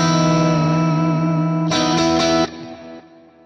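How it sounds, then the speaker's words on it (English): Sustained electric guitar notes through a Quad Cortex ring out drenched in reverb and delay panned to one side, a brighter strum midway, then trailing off into echoing decay. "you can hear all that reverb and delay going to one side"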